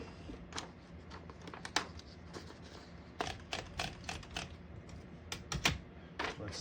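A 1975 Smith-Corona Galaxie Twelve manual typewriter being typed on, giving sharp, close key strikes in uneven bursts with brief pauses between words.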